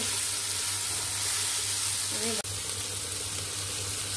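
Yardlong beans (borboti bhaji) frying in a pan give off a steady, close sizzle, broken by a brief stirring clatter partway through.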